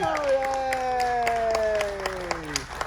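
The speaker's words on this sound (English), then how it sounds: "Let's give them a huge round of applause, everybody." An audience aboard the cruise ship Carnival Liberty applauds first responders and uniformed service members at a military appreciation gathering, scattered clapping with some cheering beneath a sustained musical tone.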